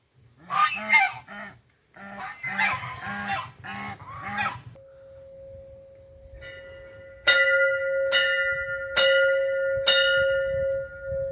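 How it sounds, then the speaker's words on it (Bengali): Geese at a newly built Bhubaneswari Kali temple in Manubazar give a run of loud, close, repeated nasal honks, then a steady ringing tone takes over with four evenly spaced, resonant bell strikes. "দুটো রাজহাঁস আছে এখানে"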